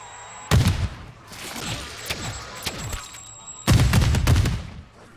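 Explosive-tip arrows fired from a Torque 35 bow in MWZ burst in two loud, booming blasts, with a scatter of smaller crackling impacts and thuds between them amid game sounds.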